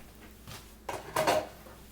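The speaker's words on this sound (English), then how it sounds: "the last thing I'm going to add is the bay shrimp" Bay shrimp tipped into a pot of seafood chowder, a soft clatter of cookware followed by a brief louder rustling splash of the shrimp going in, close and without talk.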